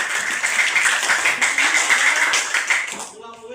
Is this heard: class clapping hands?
yes